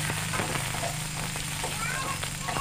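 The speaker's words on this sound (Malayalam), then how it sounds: "നമ്മൾ കരിവേപ്പ് അതിലേക്ക് ഇടുക. ഓക്കെ, അതൊന്ന് വറുത്തെടുക്കുക" Curry leaves frying in hot oil, a steady close sizzle with faint crackles and pops running for nearly three seconds, with some soft background noise but no clear talk.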